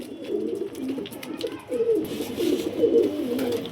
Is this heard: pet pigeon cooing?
yes